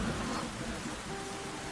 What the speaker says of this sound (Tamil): ஐயோ மழை ஆரம்பிச்சிருச்சுடி